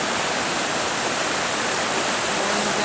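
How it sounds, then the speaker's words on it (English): A mountain stream in New Zealand rushes steadily in a loud, close, continuous wash of flowing water, with no voices. "Another stream coming down, flowing along, joining other water,"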